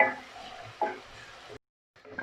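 Ginger and garlic sizzle and fry in a pan with stirring scrapes, a close, moderate crackle that cuts out briefly before resuming.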